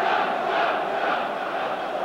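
A football crowd roars angrily at a late challenge in a Luton Town versus Watford match, a dense sustained wall of shouting and jeering voices, loud and continuous throughout.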